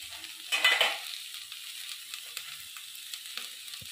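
Vegetables, chopped onion and gourd leaves hit a hot oiled wok with a loud burst of sizzling, then settle into a softer, steady crackle and hiss with occasional light pops.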